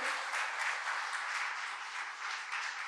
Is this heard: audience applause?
yes